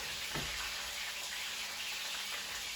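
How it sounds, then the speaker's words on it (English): Quiet, steady sizzling of meat frying in a pan, a continuous crackling hiss with no talking. "they start to sizzle because the meat juices the oils from the meat themselves make their way out"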